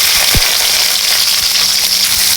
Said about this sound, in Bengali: পেঁয়াজটা এখন যতক্ষণ ব্রাউন কালার না হচ্ছে ততক্ষণ ভেজে নেব